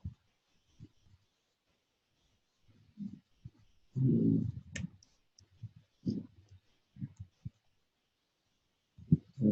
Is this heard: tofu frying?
no